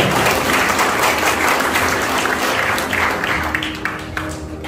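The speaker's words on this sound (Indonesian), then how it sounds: "Tepuk tangan buat Bapak Ibu." Sustained applause from a seated audience at a network-marketing business seminar, many hands clapping in a dense, even wash that thins slightly toward the end.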